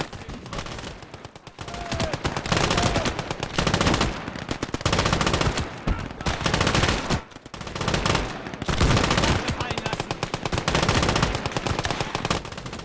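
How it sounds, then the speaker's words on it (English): Belt-fed Maxim machine gun firing in a WW2 strategy game, sustained loud automatic bursts layered with other battlefield gunfire, dense and continuous with brief lulls. "Sure is reloading a lot for a belt-fed machine gun"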